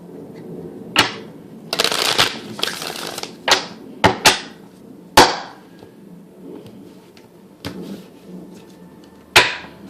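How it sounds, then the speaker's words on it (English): Crisp riffling bursts of tarot cards being shuffled, two longer shuffles early followed by sharp separate taps and snaps of cards, close and fairly loud. "Two shuffles,"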